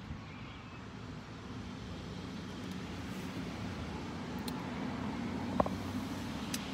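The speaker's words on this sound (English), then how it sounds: "It's busy out there. It's busy. Traffic." Steady road traffic on a busy roundabout, a continuous broad rushing roar of passing vehicles heard from nearby with a few faint clanks and knocks, no voices.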